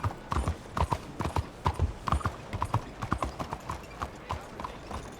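Horse hooves clip-clop in Red Dead Redemption 2 as the rider heads up a town street: a steady, close, rhythmic run of hoof beats on hard ground that continues throughout.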